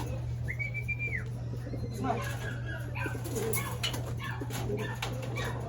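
Racing pigeons arriving at a loft after a 139 km derby race from Mulanay, Quezon, soft cooing and a whistled call over a constant low electrical hum, with rustling and faint background voices.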